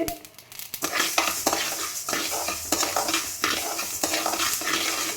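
Mustard seeds pop and crackle in hot oil while making fish curry masala, a dense run of sharp snaps over a loud sizzle, with a few utensil clinks against the pan.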